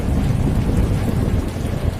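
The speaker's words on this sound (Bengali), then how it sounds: "বাইরে অঝরে বৃষ্টি পড়ছে।" Heavy rain pours down with thunder over a Kolkata lane, likely drumming on asbestos roofing, a loud, dense, unbroken roar with low rumbling underneath.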